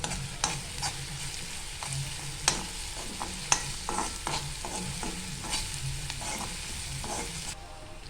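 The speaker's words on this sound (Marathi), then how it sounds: "इथे आपण जास्त असं कांदा परतवून नाही घेतलाय, थोडासाच परतवून घेतलेला आहे" Onion and curry leaves sautéing in a pan produce a continuous sizzle, with repeated scraping stirs and occasional sharp clinks of the spoon against the pan, close and without speech.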